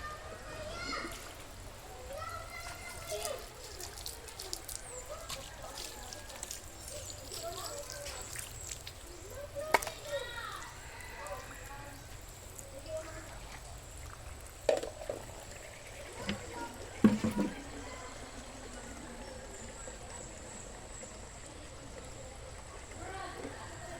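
Water runs and trickles quietly in the background while a small backyard pool is cleaned and people talk, with a few louder splashes and clatters now and then.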